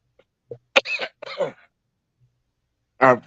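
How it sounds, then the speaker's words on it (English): Three separate coughs, close and loud, with short pauses between them and a final harsher cough after a longer gap. "forgive me for the cough, y'all."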